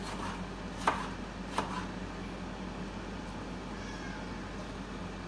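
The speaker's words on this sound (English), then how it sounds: "Right, and then we just slice it up." A knife slices through cooked wors sausage, with two brief, soft cutting taps close by over a quiet, steady room background.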